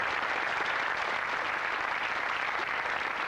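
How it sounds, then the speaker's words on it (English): Studio audience at a 1989 UK television game show applauds, a dense, even wash of clapping held at full strength for the whole stretch. "Give him a nice round of applause"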